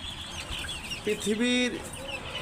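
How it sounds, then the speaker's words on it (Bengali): A Brahma chicken gives a short, close cluck over a quiet farmyard background, with faint talk around it. "সবথেকে বড় মুরগি ব্রাহ্মাটা"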